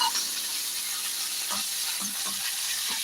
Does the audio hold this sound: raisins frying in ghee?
yes